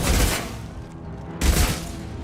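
Gunfire from a sci-fi firefight in the video game Mass Effect 2, heard as two loud bursts of rapid shots with booming low thuds, separated by a quieter stretch.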